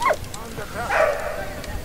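A dog in Valiant Hearts: The Great War gives a couple of short barks and yips, mixed with a human voice speaking nearby.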